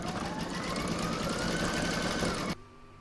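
A home embroidery machine stitching blue thread into a bunny's eyes, a fast steady mechanical whir with rapid needle beats, close and continuous, then stopping abruptly near the end.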